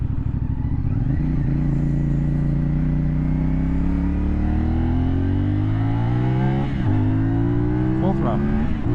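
CFMoto 450SS motorcycle at full throttle, its engine note climbing steadily through the gears with a shift or two, loud and close throughout, wind noise underneath.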